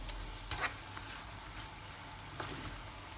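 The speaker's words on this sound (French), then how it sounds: "غتزيدوا المايزينا وغتبقاو تحركوا هكا حتى ينشف ليكم" A filling mixture for chicken and cream briouats is stirred with cornstarch in a pan until it dries, giving a low steady sizzle with a few soft scraping strokes of the spoon, no voices.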